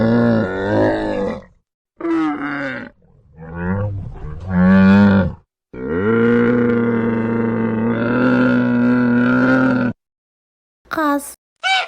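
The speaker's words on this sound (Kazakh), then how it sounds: "Түйе." A camel gives a series of loud, drawn-out groaning bellows close up, several separate calls with pauses between, the longest a sustained roar in the middle.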